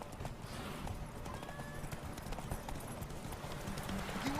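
Roach, Geralt's horse in The Witcher 3: Wild Hunt, gallops with steady, close hoof clip-clops at a constant pace, with faint whinny-like tones mixed in and a continuous low rumble underneath.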